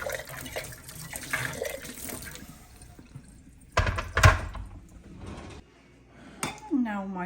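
Hot water poured into glass jars to scald them: splashing, trickling pours with clinks of glass in a kitchen, coming in short, uneven bursts.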